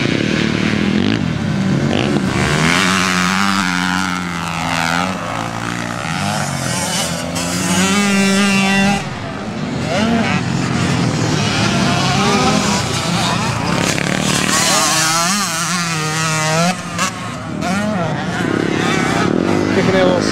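Big motorcycles race around a Speedworld track, engines roaring loud and continuous with revving swells and passing whines, a rider kicking the bike sideways, while a voice talks over the din.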